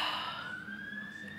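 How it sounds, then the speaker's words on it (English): An emergency siren wails with a steadily rising pitch as it passes by, with some background hum. "There's a siren going by"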